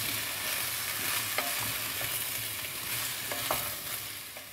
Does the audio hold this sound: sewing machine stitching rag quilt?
no